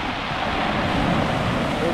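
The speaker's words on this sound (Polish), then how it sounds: "Ale ta woda trzaska." Sea waves crash and wash along a Cyprus shore in a steady, loud roar of surf mixed with wind noise on the microphone, with no clear pause.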